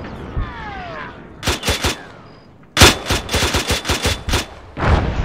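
Gunfire in the tactical military shooter ARMA 3, a loud rapid string of shots in short bursts, the later bursts longer and denser, with a whooshing pass at the start.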